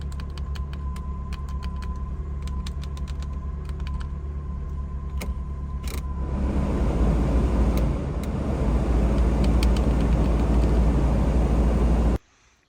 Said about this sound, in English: idles okay without the MAF plugged in